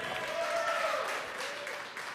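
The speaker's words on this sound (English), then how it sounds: "And the cheering from the late night team here in Hawthorne" Cheering and applause from the late-night SpaceX launch team in Hawthorne after Falcon 9 spacecraft separation of the Hispasat 30W-6 satellite, a steady wash of clapping and voices at moderate distance with no other talk.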